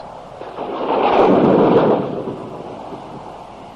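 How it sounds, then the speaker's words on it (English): A storm at sea with rumbling thunder, rushing wind and crashing waves, swelling to a loud roar in the middle and easing off again, with no voices. "Then a new storm comes."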